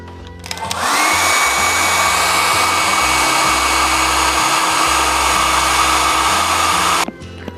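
A hair dryer dries wet watercolor paint on paper, starting with a click, then blowing a loud steady whir up close for about six seconds before switching off.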